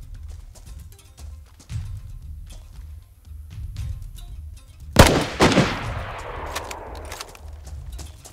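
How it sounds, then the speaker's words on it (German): Gunfire in the video game DayZ: a sharp, loud shot cracks out near the middle, followed by further reports and a ringing echoing tail, after a stretch of quiet low ambience. "Ja, der schießt."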